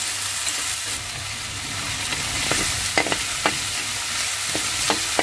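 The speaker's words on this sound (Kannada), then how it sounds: "ಈರುಳ್ಳಿ ಒಂದು ಸ್ವಲ್ಪ ಕೆಂಪುಗಾಗೋವರೆಗೂ ಒಂದು ಸ್ವಲ್ಪ ಸಣ್ಣ ಉರಿ ಮಾಡಿಕೊಂಡು" Onions frying gently over a low flame for heerekayi (ridge gourd) rice, a soft continuous sizzle with scattered crackles and a few light spatula taps toward the end, no talking.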